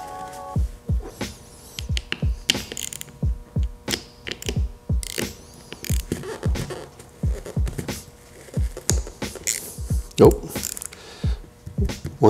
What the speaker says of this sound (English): gonna try to see if I could take this nut off in order to take off the compressor wheel